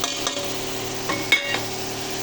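Chilli powder and biryani masala being sautéed in a pan, a steady soft sizzle with a few light scraping strokes of a spatula, close and continuous.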